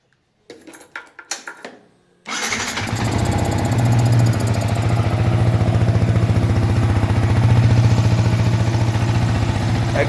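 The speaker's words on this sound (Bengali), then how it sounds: "তা আপনারা যখন যদি হাই রেভ না করেন, অ্যাক্সিলারেশন হাই না করেন, সেক্ষেত্রে আপনার কিন্তু নর্মাল সাউন্ড হবে।" A motorcycle with a stock exhaust starts and settles into a steady, loud idle at normal revs, after a few brief clicks and clatters at the beginning.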